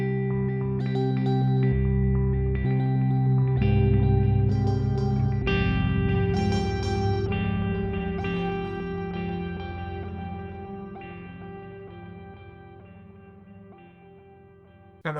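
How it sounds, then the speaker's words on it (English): Guitar runs through an FM3 tape loop preset with a quad tape sound and whole note plus dotted whole note delays, building layered, smeared repeats that swell and then slowly fade away. "We've got a whole note delay and a dotted whole note delay, which sound like this on top of that quad tape sound."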